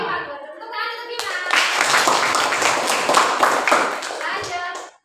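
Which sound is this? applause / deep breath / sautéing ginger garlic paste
applause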